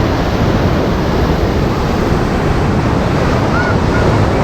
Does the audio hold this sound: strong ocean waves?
yes